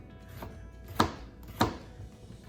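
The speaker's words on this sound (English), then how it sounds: "So the cucumber, I'm just gonna cut into thin slices." Two crisp knife strokes through a cucumber being cut into thin slices, sharp chops landing about half a second apart on a board, close and alone with no talking.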